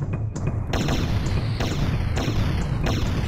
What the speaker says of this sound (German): Vier explosive Schüsse.